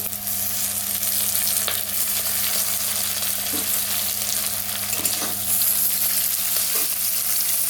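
Chopped tomatoes sizzle in a frying pan with a steady bright hiss and a few soft stirring clicks, close and continuous, with a low hum underneath.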